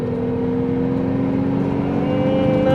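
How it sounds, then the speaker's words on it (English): Supercharged VW Corrado VR6 engine revving after a downshift while driving on the road, a steady loud drone with harmonic tones that rise slowly, heard from inside the car, with no talk. "If I just downshift it and give it a whirl."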